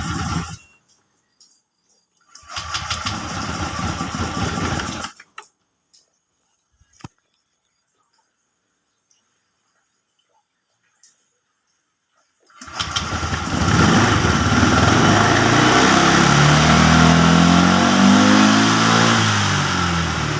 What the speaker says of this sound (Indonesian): Kita coba starter kembali.